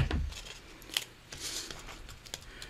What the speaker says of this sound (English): And get my smaller scissors.